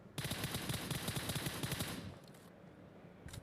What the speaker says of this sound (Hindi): हमारे पे गोलियां मारने लग गए, तो फिर मैंने भी उसको एक स्प्रे दे ही दिया।